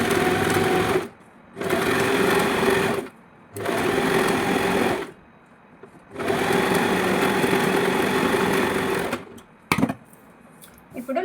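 A sewing machine stitches net frock lining fabric in four sustained, steady runs separated by short pauses, loud and close with no talking over it.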